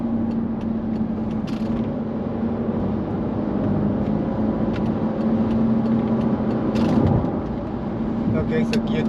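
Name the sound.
Mercedes-Benz S55 AMG W220 engine accelerating in manual mode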